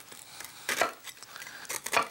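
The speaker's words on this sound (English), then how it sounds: "I cut it like this." A knife cutting through cooked fish, heard as a few soft, close cuts and light taps against a board over about two seconds, with no speech.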